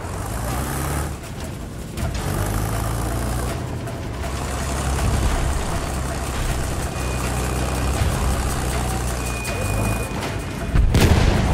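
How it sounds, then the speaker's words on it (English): Machine gun fire in a Battlefield 1 battle, a dense, continuous roar of gunfire mixed with booming explosions and rumbling vehicle noise, staying loud and chaotic throughout with a sharper burst near the end. "Enemy machine gun over there!"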